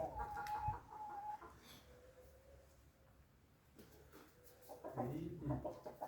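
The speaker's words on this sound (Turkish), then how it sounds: "Horoz." A rooster crows nearby, with a long drawn-out call, then more clucking and fowl calls at the end; faint voices in the background.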